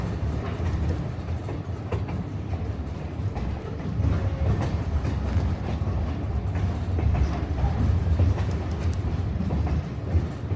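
A mountain train runs on rails near Leadville, Colorado, with a continuous close rumble and rhythmic wheel clatter that swells slightly midway, with no voices.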